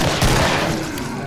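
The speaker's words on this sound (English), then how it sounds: "So the object of this game is to shoot them." Gunfire from the video game Killing Floor, set during a Christmas event, comes as a loud, rapid burst of shots that rattles for just over a second with a booming low end.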